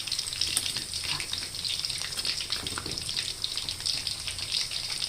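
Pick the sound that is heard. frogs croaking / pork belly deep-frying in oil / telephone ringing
pork belly deep-frying in oil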